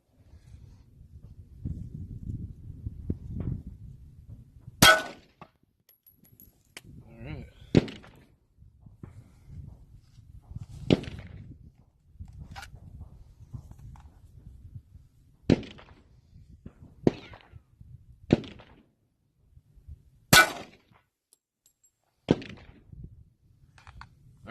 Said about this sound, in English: just run one round in the plate, and then we'll switch to 45